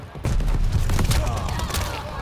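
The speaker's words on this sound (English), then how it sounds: "Tossing grenade." A thrown grenade exploding in Call of Duty: Vanguard, a sudden heavy blast that rolls on in a dense, rumbling roar mixed with gunfire.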